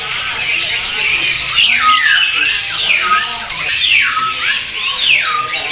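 Repeated sweeping, whistled calls of a female white-rumped shama rise and fall in a steady series, fairly loud over a busy background of other chirps and noise at a bird market stall.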